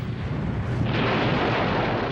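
A steam boiler explodes in industrial-era England, a loud, sustained roar with no sharp crack that swells and thickens midway and stays dense to the end.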